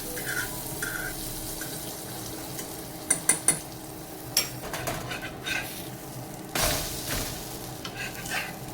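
Bread omelette frying in butter in a pan, a soft background sizzle broken by sharp scraping and clattering bursts from handling the pan, with a louder swell of hiss near the end.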